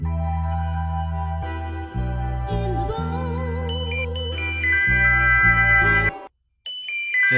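A sampled synth melody with bright trumpet-like lead tones and keys over steady low bass chords, a short pause near the end before the melody resumes.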